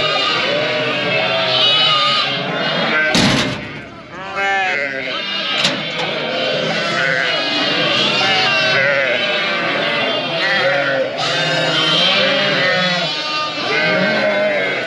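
Flock of sheep bleating repeatedly as ewes run back to their lambs at a barn door on a drought-hit farm, loud and continuous, with someone talking over them.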